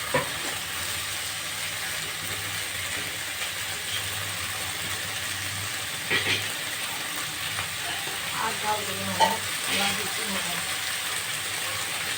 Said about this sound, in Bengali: বেগুনের ঝোল রান্না করতেছে মাছ দিয়ে